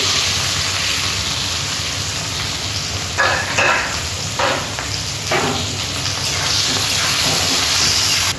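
Onions frying in hot oil with cumin, bay leaves, dried red chillies and whole garam masala for a mutton and papaya curry: a loud, steady hiss and sizzle with a few brief louder bursts as the pan is stirred, no talking.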